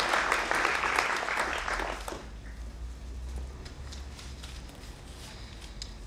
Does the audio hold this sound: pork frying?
no